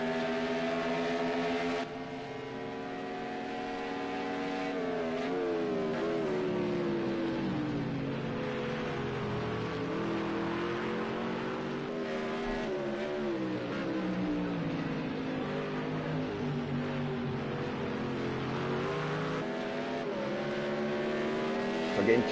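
Loud, sustained roar of GT1 race car engines around the Hockenheim circuit, tones rising and falling through gear changes as cars pass and accelerate, continuous over the whole stretch.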